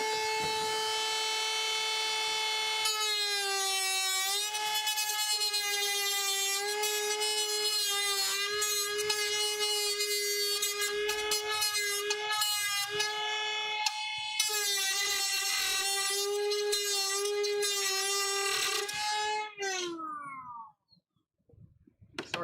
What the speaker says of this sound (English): I'm just going to Dremel out plastic a little bit more to create an inset for them to drop in.